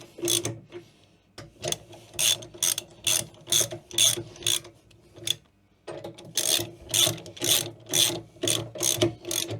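A boat's sea strainer lid being screwed down and tightened evenly: a close, loud series of rhythmic ratcheting clicks in short bursts, pausing briefly midway before resuming at the same pace.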